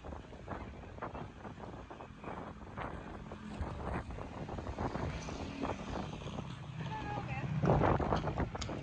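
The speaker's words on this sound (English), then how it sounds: "it's very windy today" Heavy wind buffets the microphone throughout, a rough continuous rumble that swells louder near the end.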